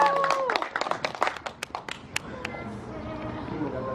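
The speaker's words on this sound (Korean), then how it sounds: "박수 한번 부탁드리겠습니다." Applause from a seminar audience at a Korean lecture show, a burst of scattered hand claps that thins out over a few seconds while a voice talks over the fading clapping.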